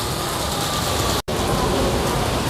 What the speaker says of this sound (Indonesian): Hujannya lumayan deres ya